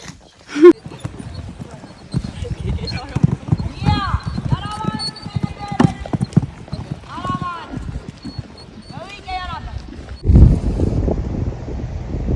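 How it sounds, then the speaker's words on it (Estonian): A horse walks calmly at a riding camp, its hooves clip-clopping steadily at close range under ongoing talk, with a brief wind gust near the end. "Hobune läheb Martika. Jalutab see rahulikult"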